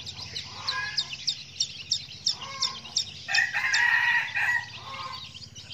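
Young jungle fowl chicks, a few days to two weeks old, peep in a steady run of high, rhythmic chirps close by, with a longer shrill call rising in the middle.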